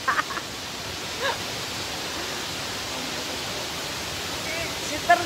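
Waterfall at Wah Fu, Hong Kong, a steady broadband rush of falling water filling the scene, with brief voices and small knocks breaking through at the start and end.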